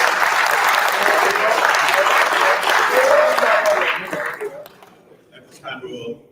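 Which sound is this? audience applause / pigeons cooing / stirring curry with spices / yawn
audience applause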